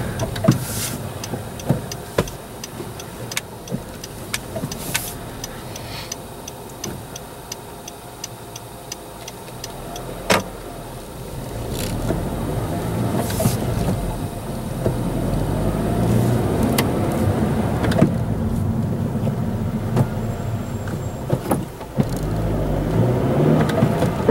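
A 2014 Honda Civic Si pulls out of a parking lot and drives off, a low engine hum rising steadily under regular clicking ticks from inside the cabin.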